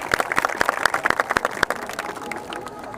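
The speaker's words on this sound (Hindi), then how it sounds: "आप सभी लोग इन सभी के लिए जोर से ताली बजा दीजिए" Students in a class clap together, a brisk burst of many hands that is dense at first and thins toward the end.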